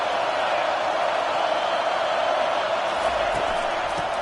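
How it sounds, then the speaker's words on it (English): Stadium crowd in an NCAA college football video game roaring steadily on a third-and-long play, a dense, continuous wall of cheering and noise with no break across the whole stretch. "Here comes the crowd trying to make it tough on 3rd and long."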